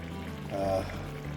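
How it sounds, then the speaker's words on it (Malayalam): Raw coconut oil poured over a nearly finished squid masala curry, a short soft liquid trickle against steady low kitchen hum. "പച്ച വെളിച്ചെണ്ണ അതിൻ്റെ പുറത്ത് ഒഴിച്ചു കൊടുക്കുക"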